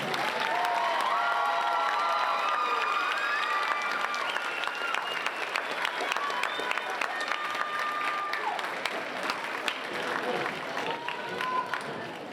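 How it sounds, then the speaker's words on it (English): Sustained applause from a large audience at an indoor percussion championship awards ceremony, with cheering and high whoops on top, loud and continuous throughout. "let's have a huge round of applause for Polytechnic Independent"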